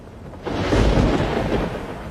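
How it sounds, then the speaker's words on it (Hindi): Thunderstorm sound effect over a river: a broad rumbling roar swells in after a brief quieter start and holds loud and steady, like thunder rolling with heavy rain, with no voices. "अचानक से दरिया में एक तूफान उठता है"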